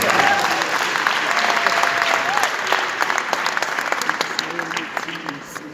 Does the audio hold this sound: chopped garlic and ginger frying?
no